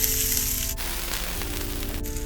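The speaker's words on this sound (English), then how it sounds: "we'll saute this for a couple of minutes" Green chili sizzling in hot oil with cracked mustard seeds, a steady close frying hiss that briefly dips midway, then swells again.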